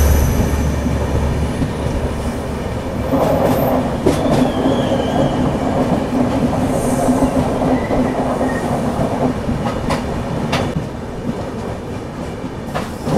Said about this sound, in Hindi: प्लेटफॉर्म नंबर 2 पर कोई ट्रेन आई है वह 4 लोकोमोटिव के साथ